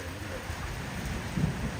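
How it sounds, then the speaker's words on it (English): A low, rumbling roll of thunder in South Australia swells beneath steady rainfall, the rumble growing slightly louder toward the end. "Oh, listen to that thunder."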